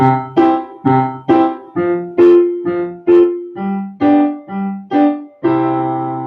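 Piano playing a 1-4-5 chord pattern with the left hand on the roots, a boom-chuck rhythm of detached, evenly spaced chords, clear and close, with no voice.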